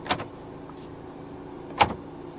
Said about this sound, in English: Electronic central locking.